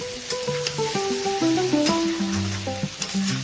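Boiled chickpeas, both regular and kabuli, and potatoes fry in spiced masala in a pan, giving a steady close sizzle with stirring, under a light background melody.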